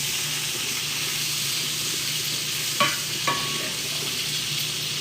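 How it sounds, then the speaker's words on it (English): Onions frying in a pan give a loud, continuous close sizzle, with two quick scraping knocks of a utensil stirring them partway through. "we're going to put these onions in so they can start caramelizing up. And I'm going to give just a nice stir."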